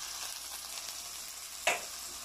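Ground meat hits a hot pan for sautéing with chayote, producing a loud, continuous sizzle and crackle, with one sharp clack of a utensil partway through.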